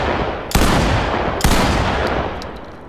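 Two heavy, booming gunshots in the tactical shooter game Ready or Not, about a second apart, each loud and close with a long reverberant tail, no talking.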